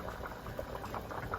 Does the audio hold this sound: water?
yes